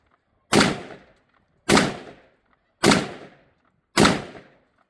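Four loud, close rifle shots from an M14 or FN-FAL firing M ball ammunition ring out at an outdoor range, each a sharp crack with a decaying echo, fired at an even, unhurried pace.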